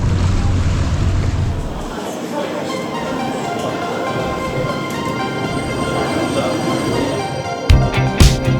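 Ferry crossing Hong Kong harbour, a loud continuous rush of wind and water with engine rumble, and a brief bump near the end.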